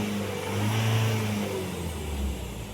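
An Isuzu D-Max pickup engine with a no-crank fault fires and revs, a steady mid-pitched drone that swells and eases over a few seconds, loud and close with no voices.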